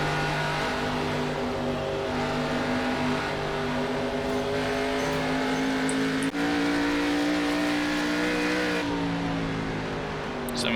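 Stock race car engines from an ARCA Series race at Dover International Speedway in the iRacing simulator roar steadily and loudly for the whole stretch, with layered high-pitched engine tones shifting slightly as cars run together around the track.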